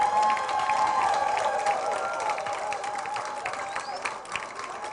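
Audience applause and some cheering for a cast of actors after a heritage climate change community production in Carriacou, Grenada, dense and sustained clapping that slowly fades, with a faint tone underneath.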